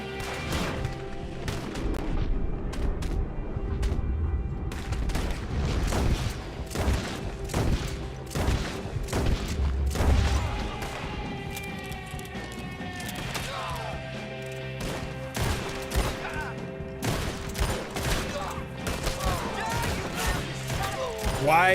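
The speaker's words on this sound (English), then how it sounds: "I'm killing all these motherfuckers with Arthur's gun." Repeated gunfire from a character's gun in Red Dead Redemption 2, sharp shots in irregular bursts across the whole stretch, loud and close, with game music and a voice talking underneath.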